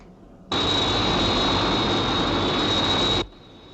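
The Sky 1 interceptor aircraft from the TV series UFO flies with a loud, steady whooshing engine roar and a sustained high whine, starting abruptly and cutting off sharply after a few seconds.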